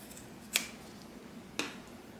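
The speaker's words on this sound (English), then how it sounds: "use your scissors and fold back this little bit of extra that you have here and just cut that off" Two crisp, separate snips of scissors trimming excess fabric while sewing a clutch, each short and fairly close against a quiet room.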